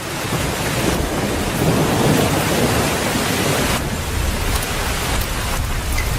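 Steady, dense rain pours throughout, with a low rumble of thunder swelling in the middle before easing back into the downpour.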